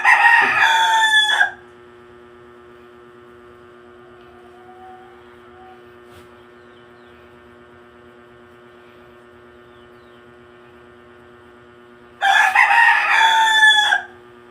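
A rooster crows loudly and close by, falls silent over a faint steady hum, then crows again at the end.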